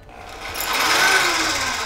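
A power tool runs at a steady, loud whine during a custom scooter build, holding a continuous buzzing drone for the whole stretch with no talk over it.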